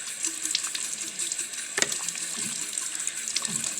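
Cold water runs steadily from a tap for a final face rinse, a close, continuous splashing hiss with small shifts as the stream is disturbed.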